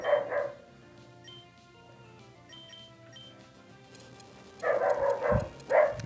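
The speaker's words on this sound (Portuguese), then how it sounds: "É cachorro ali, não pode ver nada na rua e fica latindo." A dog barks in the street in a short burst of sharp yips at the start, then again in louder repeated barks near the end, over quiet game music.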